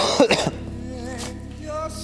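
A single harsh cough bursts out near the microphone in a live cooking broadcast, followed by a brief murmur of voice and a quiet kitchen room tone.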